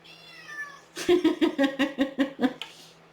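A male house cat that has burst into a home office meows in a rapid series of about eight loud, close calls, preceded by a faint thin whistling tone.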